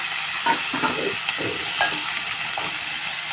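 Onions fry in oil with a close, steady sizzle and a few soft stirring scrapes through a short stretch, and no one talks.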